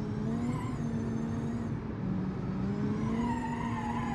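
Video game car accelerating on nitrous boost, a steady loud engine drone with rising and shifting whine tones, continuous throughout with no talk.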